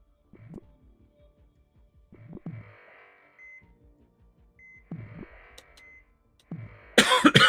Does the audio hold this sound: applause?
no